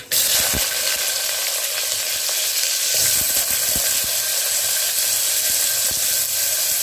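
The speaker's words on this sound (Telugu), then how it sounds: "ఫ్రై చేసుకోవాలి." Onions and mustard seeds frying in a hot pan, a loud continuous sizzle with occasional pops and crackles, close up and alone without speech.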